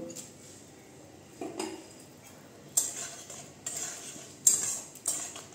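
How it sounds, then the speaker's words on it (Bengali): Fried chicken pieces tipped into a pan and stirred, with several sharp metal spoon scrapes and clinks against the pan, close and alone over a quiet background. "এখন দিয়ে দিচ্ছি আমি এই যে ভেজে রেখেছি চিকেনগুলো"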